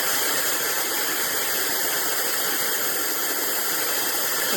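A Labiim brushless high-speed ionic hair dryer blows with a steady, loud rushing whoosh and a faint high whine, running continuously and unchanging up close.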